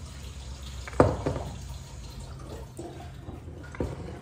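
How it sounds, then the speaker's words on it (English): Water pouring into a cold brew coffee maker over grounds, a steady running fill with a sharper splash near the start and small bursts later, moderately quiet and with no voices. "And now all you do is fill it with water."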